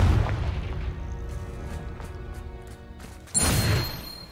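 The Confringo blasting spell in Hogwarts Legacy lands as a heavy booming blast that rumbles and fades. A sharper crash follows near the end.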